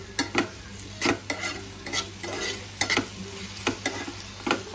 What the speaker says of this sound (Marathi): आता आपलं सगळं छान मिक्स करून घ्यायचं आहे